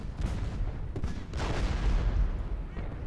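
Booming artillery canister fire and crackling gunshots from a Civil War battle in Ultimate General: Gettysburg, a dense continuous barrage of overlapping blasts at loud, steady intensity.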